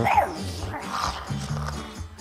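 A person imitates a wild wolf with a few short, throaty, dog-like yips and whimpers, close up, broken into separate bursts.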